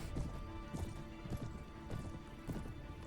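Horse hooves galloping across the battlefield in the medieval combat game Mount and Blade: Warband, a loud, fast, continuous clip-clop rhythm with heavy thuds repeating under dense battle noise.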